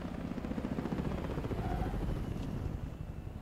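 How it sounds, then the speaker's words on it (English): A helicopter in the video game Call of Duty Cold War gives off a steady rotor drone with a low throbbing chop, moderately loud and continuous, with no talk over it. "Oh, a helicopter."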